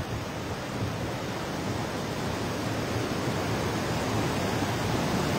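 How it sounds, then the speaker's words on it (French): Steady, dense roar of rushing water at the Flumen waterfalls in snowy weather, a constant broadband wash with no pauses or voices. "bienvenue aujourd'hui aux cascades du Flumen"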